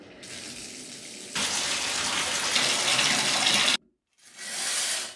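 Shower water runs steadily as a broad rushing spray, growing louder partway through, then cuts off abruptly before resuming briefly near the end; no talking.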